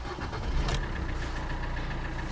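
A Suzuki Swift's 1.3 DDiS diesel engine runs with a steady, close mid-range drone and a brief louder swell near the start, with no voices over it.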